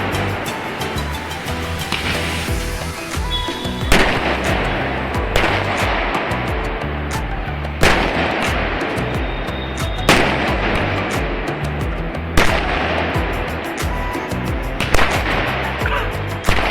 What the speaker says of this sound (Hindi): अभी वो जो बम मैंने पहले दिखा रहा था वो अब जाके फटा है